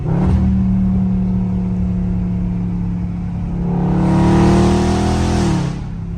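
A loud Dodge Scat Pack driven aggressively: a deep, steady engine rumble from inside or near the car swells into a strong rev midway, then eases back down.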